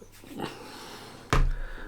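A small dog gives a sharp bark, preceded by faint snuffling and whimpering nearby, one loud close yap standing out.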